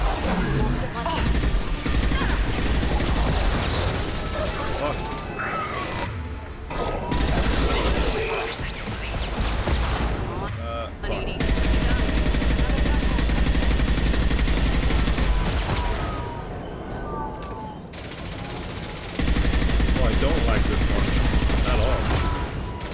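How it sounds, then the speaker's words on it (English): Assault rifle gunfire in Mass Effect 2 during a firefight, dense sustained bursts with mechanical clatter, broken by brief pauses, with game voices and combat noise layered in. "New assault rifle."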